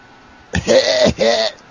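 Two harsh, raspy coughs close to the microphone, back to back in quick succession, loud and throaty.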